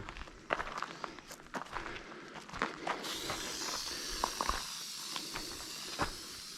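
A spray adhesive can hisses out glue in a sustained, wide spray over a blanket near a brick fireplace, starting midway and continuing steadily, with scattered footsteps and handling knocks around it.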